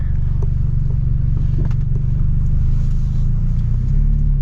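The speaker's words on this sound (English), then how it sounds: "My car sounds way better than it did before." Inside a BMW F30 328i with a stage 2 tune, the engine and exhaust drone loudly and steadily while driving, a deep continuous rumble with a slight rise in pitch toward the end.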